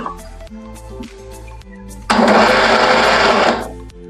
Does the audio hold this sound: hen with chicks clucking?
no